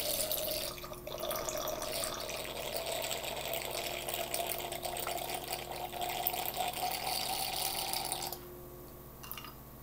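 Wine poured through a handheld wine aerator into a glass, a steady bubbling, gurgling stream with airy hiss running for about eight seconds before stopping abruptly. Close and continuous, with no talk.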